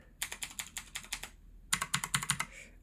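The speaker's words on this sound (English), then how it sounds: "It's a blue switch mechanical keyboard, even though it has a weird clack in the switch" Crisp clicky keystrokes from an Aukey KM-G12 mechanical keyboard with blue switches and a slight clack, typed in two quick bursts of roughly eight strokes each with a short pause between, close and clear.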